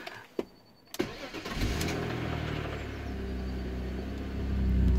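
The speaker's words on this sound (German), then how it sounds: "So, springt sofort an. Hier der Anlasser dreht nicht großartig." A BMW E46 330xi with 233,000 km turns over after a few clicks, its starter cranking briefly before the engine catches and settles into a steady, fairly loud idle that swells slightly toward the end.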